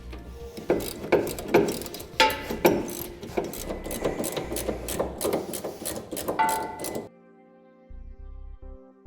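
A wrench ratchets in rapid clicking bursts while finishing tightening a Timbren rear suspension enhancement system on a 2007 Chevrolet truck, close and steady for about seven seconds before stopping.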